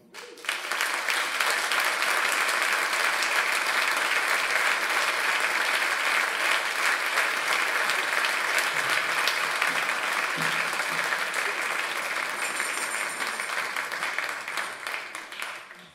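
Roaring applause from a concert audience welcoming performers on stage, loud, dense clapping that swells fast, holds steady, then fades near the end.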